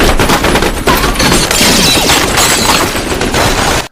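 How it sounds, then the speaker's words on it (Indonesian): Sustained gunfire from a Rambo film scene as men shoot at a house, a dense, loud, continuous barrage of rapid shots with crashing impacts, ending abruptly. "Tiba-tiba, Keegan dan 4 anak buahnya menembaki rumah Jimmy."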